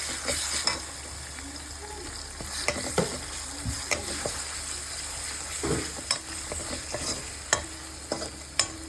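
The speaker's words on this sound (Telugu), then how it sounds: "కొంచెం లైట్గా ఫ్రై చేసుకోవాలన్నమాట జింజర్ గార్లిక్ పేస్ట్ని." Ginger-garlic paste and turmeric fry in a pan with a steady, close sizzle, while a utensil stirs and scrapes with occasional sharp clinks against the metal.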